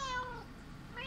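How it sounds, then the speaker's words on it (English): A house cat's short meow, then a second rising mew at the end, both close and clear with no talking. "That's the cat."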